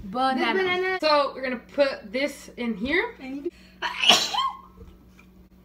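A loud sneeze bursts out once between bouts of people talking while they mix a smoothie, with a quick spoken reaction following it.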